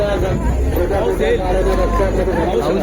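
A dense crowd murmurs and chatters at a Shivrajyabhishek celebration at a fort, many overlapping voices forming a loud, continuous babble close around.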